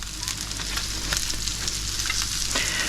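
Broccoli sizzles steadily in olive oil in a pan over medium-low heat, a dense, even crackle with occasional sharper pops, close and continuous, with no voices.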